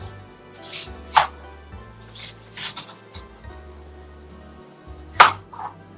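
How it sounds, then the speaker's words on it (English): Onions and peppers being chopped on a cutting board for a ground turkey shepherd's pie, three or four sharp, well-spaced knife strikes over a low steady background hum, no talking. "so we're gonna chop up this onions and peppers."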